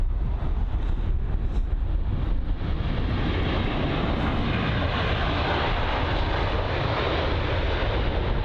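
A Boeing 737 MAX arrives on runway 27 right at London Heathrow, its engines giving a loud, continuous roar of broadband rumble that holds steady without any voices.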